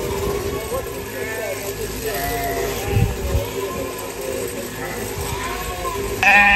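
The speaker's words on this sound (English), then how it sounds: "We watch this shear the sheep." Sheep bleat several times during shearing on a farm, with a voice talking over them throughout.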